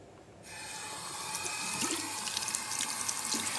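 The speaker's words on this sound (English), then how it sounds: "You can either use the supplied brush or rinse the inside of the shaving head under the tap." Shaver head of a body groomer rinsed under a running kitchen or bathroom tap, a steady close hiss of flowing water starting after a brief quiet moment and continuing loud with small splashing variations.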